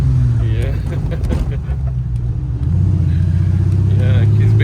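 A car club member's car engine revs and rumbles steadily up close through the whole stretch, deepening in the second half, with people talking over it.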